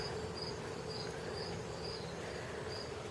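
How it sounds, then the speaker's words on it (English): A steady outdoor insect drone, continuous and even, with a faint high whine running throughout and no voices. "bees."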